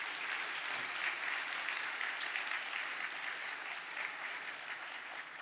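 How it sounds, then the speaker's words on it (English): Steady, even audience applause for the professors at a university accountancy commencement ceremony, a continuous wash of many hands clapping, heard from a distance and fairly soft. "Let's give all the professors a round of applause for their hard work."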